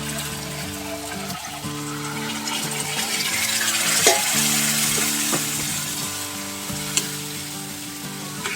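Pork for afritada is stirred and fried in a pan, a continuous hissing sizzle with occasional utensil knocks, heard beneath background music.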